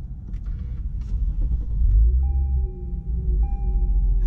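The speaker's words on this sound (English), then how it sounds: "And let's start the car." A 2018 Lexus IS 300 F-Sport AWD sedan starts up from inside the cabin, a brief starter whir followed by a low engine rumble that settles into a steady idle with a faint electric whine.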